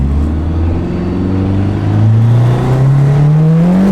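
Turbocharged 2.4L SRT4 engine in an all-wheel-drive car making over 300 horsepower, revving loudly and steadily climbing in pitch as it accelerates, close and alone.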